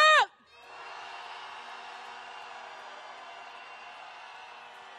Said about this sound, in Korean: 대통령실을 향해서 분노의 함성 질러보겠습니다